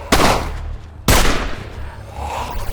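Gunfire in a zombie apocalypse survival horror action scene: two sharp, loud blasts about a second apart, each trailing into a long rumbling decay over low background noise.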